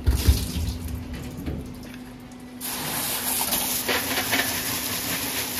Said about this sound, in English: just spray them with some hot water and then blow them bone ash